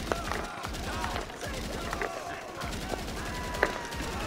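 Scar assault rifle fired in GTA 5 Online survival mode, rapid bursts of gunfire running through the whole stretch amid other game noise, with a player talking over it.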